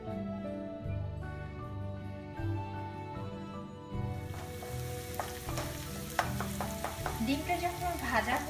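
An egg fries in a pan pushed beside vegetables for macaroni, music playing at first before a loud, close, crackling sizzle takes over with stirring clicks.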